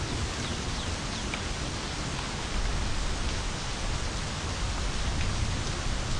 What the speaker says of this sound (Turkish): Yağmurun sesi biraz fazla gelebilir.